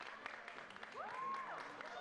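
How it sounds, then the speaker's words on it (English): Faint, distant crowd applause ripples steadily through a football stadium as a substituted player leaves the pitch, a soft, continuous wash of clapping. "To an ovation from the crowd as well"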